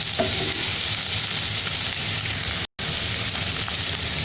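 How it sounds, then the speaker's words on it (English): Capsicum, carrots and mushrooms stir-frying in a pan: a steady, even sizzle with soft stirring scrapes, close and continuous apart from a momentary dropout. "stir-fry veggies such as the capsicum, carrots, some mushrooms, and just warming this up all together"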